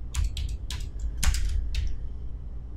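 Quick bursts of keystrokes on a computer keyboard clatter in short irregular clusters, close and quiet, with no voices.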